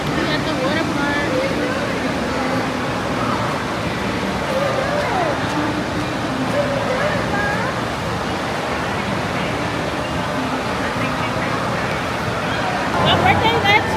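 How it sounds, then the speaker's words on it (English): Busy water park ambience: a broad wash of crowd babble and splashing water, steady throughout, with a louder burst of splashing near the end. "We at the water park."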